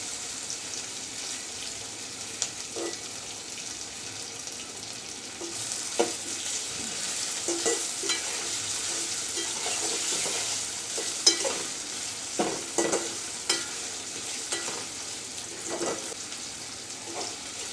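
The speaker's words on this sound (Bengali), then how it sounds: "আলুগুলাকে আমি একটু বাজা বাজা করে নিব পেঁয়াজের সাথেই সেজন্য আগে থেকে দিয়ে দিলাম তেলের মধ্যেই বেজে নিচ্ছি" Potatoes and onions fry in hot oil, a constant close sizzle broken by repeated scraping clatters of a spatula stirring the pan, with no voices over the cooking.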